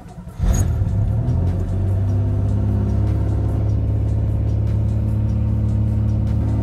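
A Pontiac Fiero engine turns over and settles into a steady, loud idle, a deep rumble with a low hum that holds even after the brief start.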